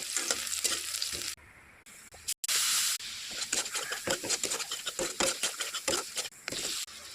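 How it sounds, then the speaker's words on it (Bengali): Loud sizzling of onions frying in hot oil, a dense crackling hiss with bursts of spattering, briefly dropping quieter before surging again. "কড়াইতে তেল গরম হয়ে গেছে, আমি এখন পেঁয়াজ দিয়ে দেবো।"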